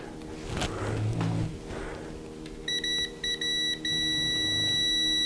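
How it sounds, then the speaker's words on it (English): A multimeter set to continuity beeps while a console fuse is tested during a TurboGrafx-16 repair: a few short clipped beeps, then a sustained steady tone, clear and close over faint background noise. "I'm gonna check the fuse and see if it beeps out"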